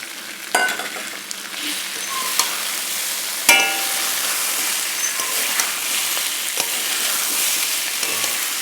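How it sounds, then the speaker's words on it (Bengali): Pre-fried potatoes go into a pan for a vegetarian dish, setting off a loud, steady sizzle with occasional scraping stirs and a sharp clatter partway through, close by and without speech. "আলুটা ছেড়ে দেবো এখন ভেজে রেখেছিলাম"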